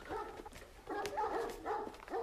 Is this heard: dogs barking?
yes